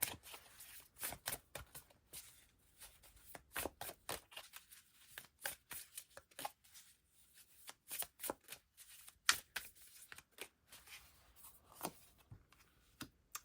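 Tarot cards are shuffled in quick, uneven bursts of crisp flicks and riffles, close by and quiet, with brief pauses between handfuls.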